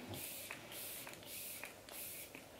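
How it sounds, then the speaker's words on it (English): Makeup setting spray is misted onto a face in three or four quick hissing bursts, soft and close with short gaps between them. "If you've not tried this setting spray, you need to"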